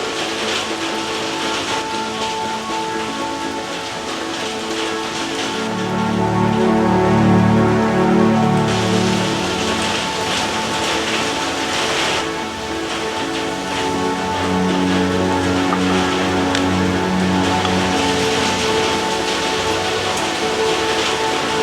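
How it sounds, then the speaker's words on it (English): Rain falls lightly in Thailand as a steady broadband patter that swells briefly partway through and continues without a break. "it's starting to rain just a little bit now"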